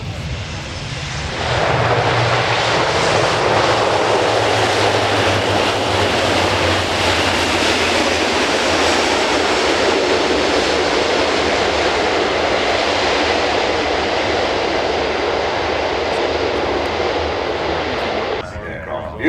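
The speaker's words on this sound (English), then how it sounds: "Aircraft, beautifully restored BAE Systems heritage flight. Touching down." A beautifully restored BAE Systems heritage aircraft touches down at an airshow, its engine roar loud, broad and sustained from start to finish, with an announcer speaking over it.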